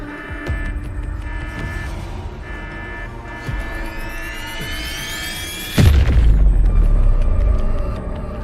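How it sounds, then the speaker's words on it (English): A huge fortress detonation in the video game Wuthering Waves: a rising synthetic sweep builds over a hum, then breaks into a loud, deep, sustained boom and rumble. "Mengzhou's last defenders detonated the entire Yuan fortress."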